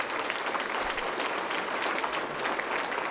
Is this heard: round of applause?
yes